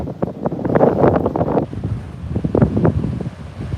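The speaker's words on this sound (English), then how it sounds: "these waves here, right in front of us, they're the ones hitting the headland" Ocean waves crashing against a headland at Fingal beach in Australia, sending up spray, heard as loud rolling surges buffeted by heavy wind rumbling across the microphone.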